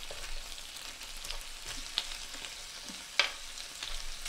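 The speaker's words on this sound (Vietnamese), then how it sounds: "để mình nướng cái măng tây với lại hành tây" Asparagus and onion grilling, a soft steady sizzle with a few sharp pops and faint stirring clicks, fairly quiet and close, no talk.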